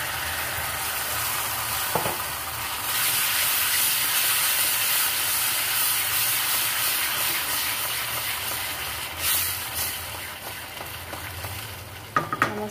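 Ginger garlic paste with tomato gravy sizzles and fries in hot oil with sautéed onions for chicken keema, a steady close crackling hiss with brief stirring clatters and no talking.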